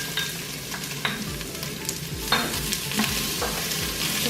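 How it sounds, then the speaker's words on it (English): Ginger, red chili pepper, onion and a cinnamon stick fry in a pan, a close, steady sizzle overlaid with repeated scraping strokes of a spoon as they are stirred, with no talking. "You want to keep stirring them so they don't get overburned"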